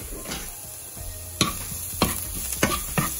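Garlic sautéing in a pan for an okra dish: a steady close sizzle broken by four or five sharp spoon strikes against the pan in the second half.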